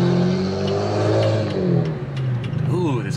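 An Infiniti Q50 Red Sport's engine revs close by, a loud rising and falling harmonic drone that climbs again near the end, with a voice talking over it.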